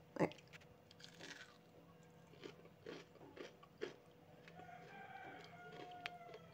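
Homemade fried chicken nuggets are bitten and chewed up close, giving a sharp crunch at the start and then several quieter crisp crunches spread out through the chewing.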